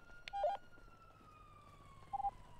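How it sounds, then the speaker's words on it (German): A faint, distant video game ambulance siren wails with a slowly falling tone, a few short electronic beeps chirping over a quiet background. "Nein, das ist Krankenwagen."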